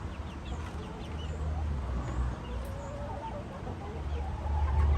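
Faint, soft chicken clucks, apparently from a hen near newly arrived chicks, over steady background hiss and low rumble with scattered murmurs.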